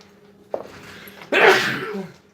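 A short intake of breath followed by one loud, sharp sneeze close to the listener, trailing off quickly.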